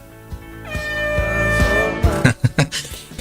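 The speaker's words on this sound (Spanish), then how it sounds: "Bocina de avión." A loud, sustained horn blast like an airplane horn sound effect holds for about a second and a half, followed by several short, sharp knocks.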